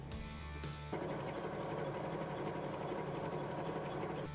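A sewing machine stitches long fabric pieces together for summer tops. After a brief start, a steady, close, continuous motor whir and needle chatter runs unbroken to the end.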